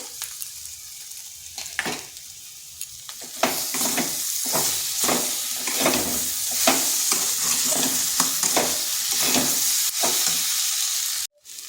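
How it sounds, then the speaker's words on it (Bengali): Spice paste fries in a pan with a loud continuous sizzle, stirred by rhythmic scraping strokes of a spoon that start a few seconds in and continue to the end. "এরপর এখানে দিয়ে দেব মশলাটা, যে মশলাটা পেস্ট করে রেখেছিলাম সেইটা।"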